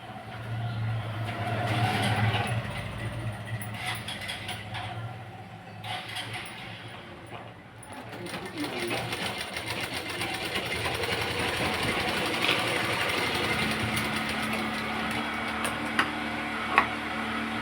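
A sewing machine stitches the sleeves of a padded blouse, giving a continuous mechanical whir and rapid ticking hum that steadies and grows slightly louder partway through, close up with no talk.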